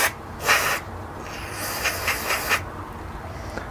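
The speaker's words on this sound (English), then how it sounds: "I'm gonna go ahead and spray out the bottom of that." Carb cleaner sprayed from an aerosol can into the carburetor of a Toro Recycler 22-inch lawn mower, a short hiss burst followed by a longer sustained spray with pulsing bursts, close and loud.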